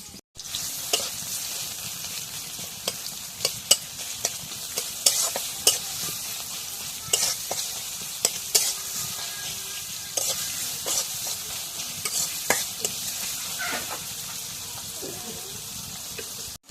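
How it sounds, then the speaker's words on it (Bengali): Onion frying in oil in a home kitchen, a continuous close sizzle broken by the clicks and scrapes of stirring, with a little running water in the background. "এখন তেল দিয়ে দিই এখন পেঁয়াজ করে দিয়ে দিই"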